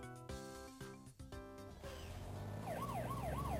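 A fire engine's siren wails in a rising and falling sweep, loud and close, coming in after a stretch of brassy cartoon music. No one speaks.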